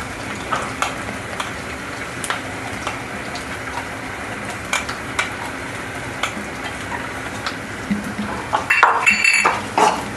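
Peanut powder gets stirred into bhagar in a pot, with a spoon scraping and clinking against the metal in irregular strokes over a faint sizzle, close and moderately loud, louder clattering near the end, no talking.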